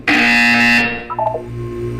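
A harsh electronic buzzer from the video game Portal 2 blares loud for most of a second, then cuts off into a short burst of lighter electronic tones over a low hum.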